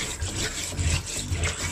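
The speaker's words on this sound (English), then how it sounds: "to wash off the back of the pen knife for, because we're going to be making use of it." A pen knife is scrubbed with a sponge and water while preparing a hibiscus sorrel drink, giving close, wet rubbing strokes in a quick uneven rhythm with a steady watery hiss behind them.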